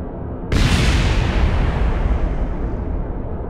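A sudden loud blast in the space-flight game Kerbal Space Program, striking hard at once and then rolling on as a long, broad rumble that fades only slightly.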